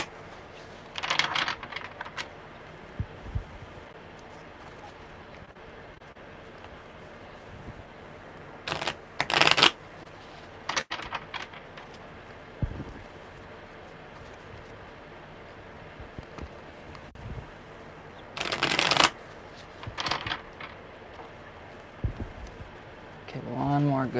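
Tarot cards are shuffled in several brisk bursts, each a quick ruffling riffle, separated by quiet stretches with faint handling noises.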